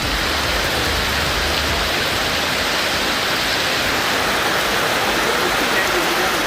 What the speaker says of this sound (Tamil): கோழிக்கோடு மாவட்டத்தின் எங்கப்புடா பகுதியில் கொட்டி தீர்த்த கனமழையால் கோழிக்கோடு மைசூர் சாலை வெள்ளத்தில் தத்தளித்தது.